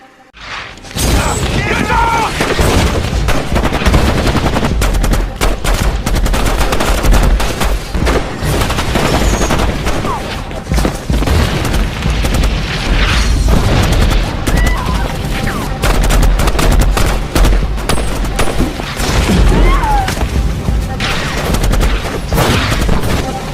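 Battle scene from the film Tears of the Sun, with sustained heavy gunfire and booming explosions filling the whole stretch, dense rattling automatic fire over deep rumbles, while a narrator talks over it.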